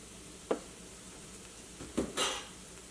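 Turmeric powder frying in a pan for duck curry, giving two or three short sizzling bursts with a brief stir or pan contact between them, against a quiet background.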